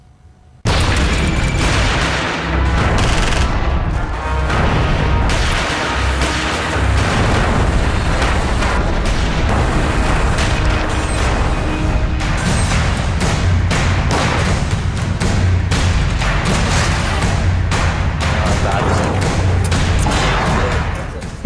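Combat footage of Iraqi forces fighting IS militants in city streets carries heavy, rapid gunfire mixed with booming explosions, loud and nearly nonstop through the whole stretch, with what may be faint voices underneath.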